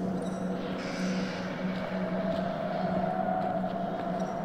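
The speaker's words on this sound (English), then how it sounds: "Oh gosh, the wind." Steady wind howling around the Blackwood Pine Sanatorium in the horror video game Until Dawn, a continuous low, droning gust that stays even and fairly loud for the whole stretch, with no speech over it.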